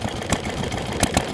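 Old Yanmar K2 diesel engine, revived after being discarded and run at a stationary engine show with poor nozzle condition, chugging steadily at idle with periodic heavy thumps of individual firing strokes, close and loud.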